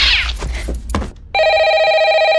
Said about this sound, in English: the house phone suddenly ringing